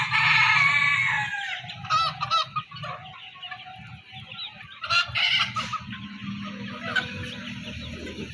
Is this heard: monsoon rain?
no